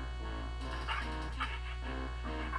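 A dog barks repeatedly in Star Trek: Judgment Rites, giving a few short yapping bursts over a steady electronic hum from the game.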